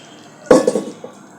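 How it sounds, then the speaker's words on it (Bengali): A cooking pot handled while beef with liver, kidney, lung and spleen cooks, giving one close metallic clank followed by a few quicker, fainter rattles and a last light tap. "আমি এখন পাতিলটা চেঞ্জ করে নেব।"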